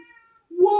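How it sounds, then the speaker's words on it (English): A male cat meows loudly from behind a closed door, protesting at being shut out of the room; one drawn-out, rising call comes after a faint quieter sound and stands alone without talk. "Don't know if you can hear that, but my cat's objecting to the fact that he's not in here."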